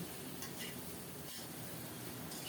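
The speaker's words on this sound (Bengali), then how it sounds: "নেড়ে চেড়ে ঢাকা দিয়ে আলু আর লাউ সুন্দর মতো ভেজে নেব" Potatoes and bottle gourd fry in a hot pan, a continuous loud sizzle with a few scraping stirs of a spatula against the pan, no voices.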